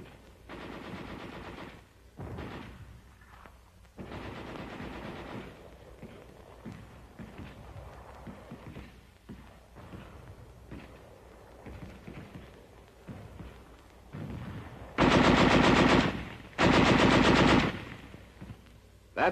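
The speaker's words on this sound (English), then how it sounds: "the machine guns move into position to fire on the enemy and protect the rifle unit while it reorganizes" Heavy machine guns fire in a 1944 army training film, with sustained bursts under a low soundtrack and two loud, close bursts near the end.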